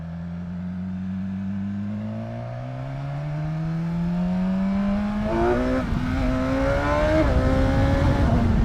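A 2019 BMW S1000XR Triple Black motorcycle accelerating hard, its engine note climbing steadily through the revs with a couple of quick gear changes near the end, loud and close.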